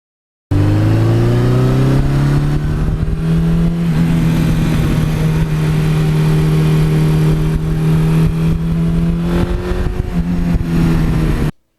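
A 1982 Suzuki GS1100E motorcycle engine runs loud and close, its pitch climbing briefly before settling into a steady, deep drone that holds for about ten seconds, with no voices.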